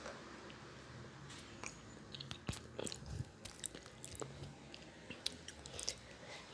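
Crunchy food is chewed close up in quick, irregular crisp bites, with no talking.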